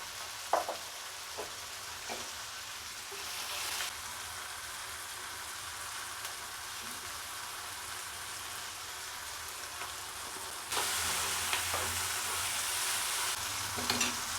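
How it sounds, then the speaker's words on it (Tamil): Onions and spices for a drumstick curry sizzle steadily in a pan with salt added, a continuous close frying hiss broken by occasional scraping stirs. "இப்போது இது கூடவே கொஞ்சம் உப்பு போட்டிங்கன்னா சீக்கிரம் வதங்கிடும்."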